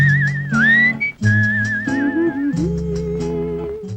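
Melodic human whistling for a song recording glides and warbles in a clear, loud, close tone over sustained low instrumental accompaniment, with no talking.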